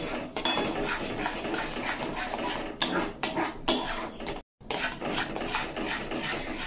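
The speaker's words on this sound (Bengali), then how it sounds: "খুব ভালোভাবে নাড়াচাড়া করে সম্পূর্ণ শুকিয়ে নিতে হবে" Spices stirred and scraped around a pan over low heat for a kakrol (spiny gourd) dish, giving a steady, close rasping scrape with metal-on-pan clinks and a brief pause, no talking.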